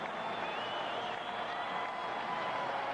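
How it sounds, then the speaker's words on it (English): Arena crowd at a 1989 NBA playoff basketball game between the Chicago Bulls and Cleveland Cavaliers gives a standing ovation, a steady roar of applause and cheering filling the space without a break. "Standing ovation now"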